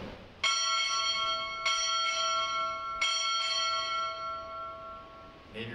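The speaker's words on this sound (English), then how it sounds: "Time orderly, strike six bells." Ship's bell struck six bells at a Navy ROTC midshipman graduation ceremony: three pairs of bright metallic strikes, each pair close together, ringing on with long sustained decay in a quiet hall.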